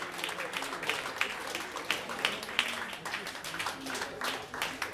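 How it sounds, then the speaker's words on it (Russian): Applause from a concert audience, a moderately distant wash of many hands clapping steadily with a few sharper individual claps standing out, fairly soft overall. "ваши бурные аплодисменты!"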